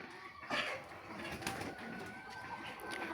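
Pigeons at a rooftop pigeon house on a small farm coo softly and shuffle nearby, with faint flutters of wings and a steady murmur of background noise.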